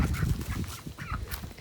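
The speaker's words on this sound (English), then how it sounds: "So here are our ducks." Five farm ducks on a homestead give loud, close, continuous quacking and honking calls that overlap in a busy flock chatter, with no voices.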